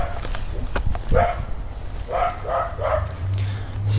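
A puppy that is part Labrador and part Australian Border Collie barks and yips a few times on a walk outdoors, short sharp calls spaced over a few seconds against steady low background rumble.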